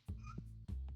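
A pet cat meows indoors in two short, close calls separated by a brief gap, over a steady low hum in the background.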